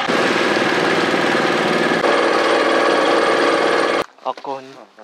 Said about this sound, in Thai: คุณลุงติดเครื่องยนต์ละ